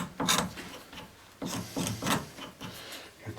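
A cabinet scraper works along the handle of a wooden toy, giving several rough, rasping strokes in uneven rhythm, close up and fairly loud, with brief pauses between passes.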